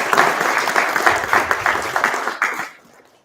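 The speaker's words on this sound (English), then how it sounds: "I would like to give a big applause to everyone in the room" Graduates and guests at a graduation ceremony on a Hamburg campus clap together in a brisk, lively burst that fades out quickly after under three seconds.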